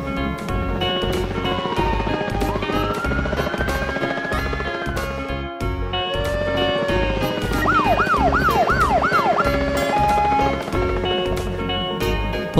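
Cartoon ambulance siren wailing in long rising and falling sweeps, then a fast run of yelping whoops, loud over a bouncy children's music backing.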